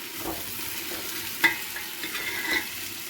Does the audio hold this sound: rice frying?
yes